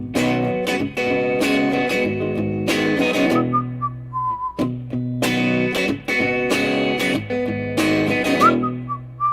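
Someone whistles a melody in clear, sustained tones, phrases rising and falling over a steady instrumental backing with no talking.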